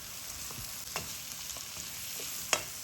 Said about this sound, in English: So I'm going to add the peppers in now. I'm going to cook them and keep them still nice and crispy.